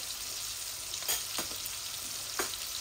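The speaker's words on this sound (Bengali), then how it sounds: "মাছগুলা ভাজা ভাজা হয়ে যাক।" Tilapia pieces dusted with salt, turmeric and chilli fry in hot oil, a constant close sizzle broken by a few sharper spits and crackles, with no voices.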